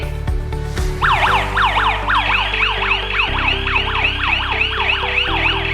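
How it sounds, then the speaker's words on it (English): A W1 home alarm system siren wails loudly and up close, sweeping up and down in a rapid repeating cycle over a steady low drone, with no other sounds around it. "When zone trigger, alarm will alert you instantly."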